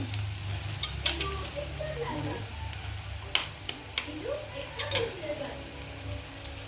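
An egg hits a hot frying pan while making egg burji, followed by steady sizzling and frying with several sharp clicks and scrapes of utensils against the pan, close and moderately loud, with a voice speaking over part of it.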